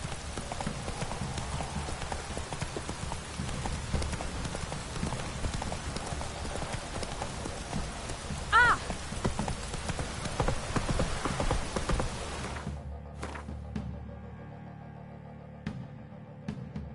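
Horse hooves clip-clop steadily in The Witcher 3, a continuous rhythmic gait with rain-like background ambience and faint game noise, ending abruptly as the sound cuts to near quiet.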